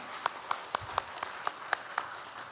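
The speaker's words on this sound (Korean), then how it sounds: "우리 박수로 환영하도록 하겠습니다" A church congregation applauds faintly to welcome a newborn, heard as about eight evenly spaced, distinct claps in a quiet room.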